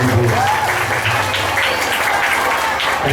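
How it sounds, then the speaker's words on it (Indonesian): Clapping from the audience at a Quran school (TPQ) graduation ceremony in a hall, a moderate, continuous patter that runs throughout, with a low murmur of voices underneath. "Tepuk tangannya mana?"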